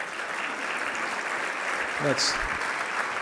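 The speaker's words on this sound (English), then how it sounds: "Let's give them a well-deserved round of applause." Steady crowd applause at a conference luncheon, dense and continuous, filling the whole stretch at an even moderate level, with a brief higher squeak near the middle.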